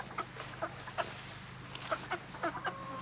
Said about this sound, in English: That chicken's still trying to figure out where she's going to lay her eggs.